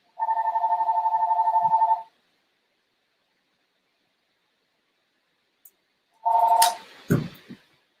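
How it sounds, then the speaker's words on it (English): A telephone rings with a two-second electronic trill. After a pause, a short burst of the same tone is cut off by clattering handling noises, close and clear in an otherwise quiet room. "Let me shut off that awful phone."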